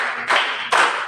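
A class claps in unison during a rhythm clapping game in a classroom, two sharp, loud group claps close together and close to the listener, with no talking.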